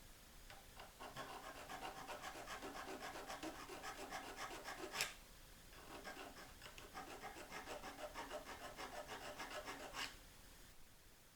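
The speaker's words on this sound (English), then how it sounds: "maybe grinding down this edge, or somehow maybe even sanding or filing it down" Steady rhythmic rasping strokes of filing down the edge of a Nikon 25-50mm f4 lens, close and soft, with a brief pause midway before the scraping resumes.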